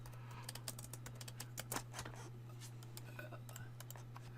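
A computer keyboard tapped in quick irregular bursts of light clicks, close and faint over a steady low electrical hum.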